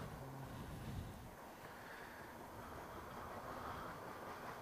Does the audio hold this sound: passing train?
yes